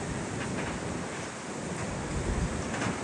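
Strong typhoon wind roars steadily and close, a dense rushing noise that buffets without pause, with no voices.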